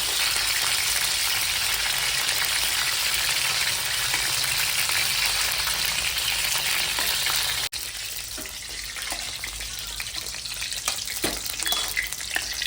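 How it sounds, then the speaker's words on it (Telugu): Chicken fries in hot oil in a pan while a brinjal masala curry is being made, a loud continuous hissing sizzle that drops a little partway through and then carries on with faint stirring clatter. "చికెన్ అయితే ఫుల్గా ఫ్రై అయిపోయినాయి మంచిగా"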